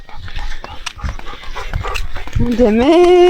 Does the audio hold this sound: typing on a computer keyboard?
no